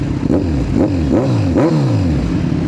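A Kawasaki Z1000 R 1000cc inline-four motorcycle with a new exhaust revs repeatedly in short, rising blips, loud and close, with a smooth exhaust note between each rev.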